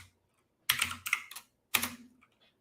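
Quick bursts of clicky keystrokes on a computer keyboard as a username is typed, in three short clusters separated by brief pauses, close and otherwise quiet.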